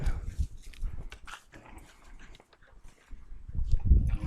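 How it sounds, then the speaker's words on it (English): Dogs moving and snuffling close by, with soft whimpers and scuffling noises, while people talk faintly in the background. "Anyways, dogs are here."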